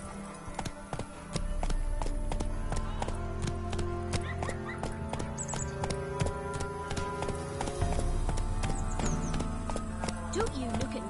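Roach, Geralt's horse in The Witcher video game, trots in a steady clip-clop of hooves with a brief whinny, close and loud under game music, while someone talks.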